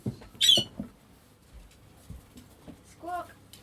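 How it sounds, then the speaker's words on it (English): Pet budgies in a home give a couple of short, shrill squawks and chirps, near and fairly faint, separated by quiet stretches with low murmuring. "Can you hear me over the budgies?"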